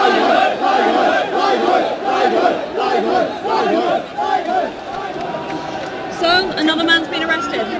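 Crowd of protesters at a 2014 Hong Kong street protest, a dense roar of many voices shouting and cheering in surging waves throughout, loud and close, with overlapping chants rising and falling.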